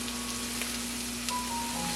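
A scallop sizzles in a hot pan, a steady crackling fry with soft pops, close and continuous with no talk.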